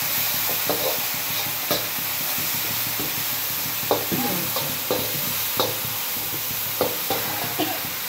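Chicken stir-fries in a pan for chicken chowmein, a constant sizzle broken by repeated scraping clinks of a spatula stirring at an uneven rhythm, close and fairly loud.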